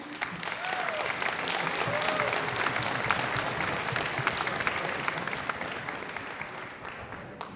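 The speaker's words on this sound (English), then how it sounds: "I want to give a huge round of applause to this group because they are doing an amazing job tonight" Sustained audience applause after a high school orchestra concert, a dense, even wash of many hands clapping that holds steady throughout with no voices over it.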